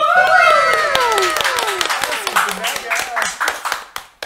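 A podcast audience claps for arriving guests: a burst of fairly close hand claps that thins into scattered individual claps, while a rising and falling musical tone sounds and then fades under it.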